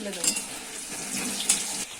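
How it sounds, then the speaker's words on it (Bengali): Potatoes sizzle in a pan of hot oil for a home-cooked chicken dish, a steady bright crackle with a couple of sharper spits and stirring scrapes, close and fairly quiet. "এখন আলু ভাজা হচ্ছে"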